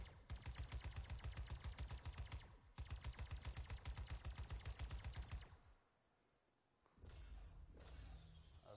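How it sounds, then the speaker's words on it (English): Rapid bursts of laser weapon fire in the space game Star Citizen, loud sustained rattling volleys with a brief pause, then a quieter gap before another sharper burst of firing. "So it's like a laser weapon."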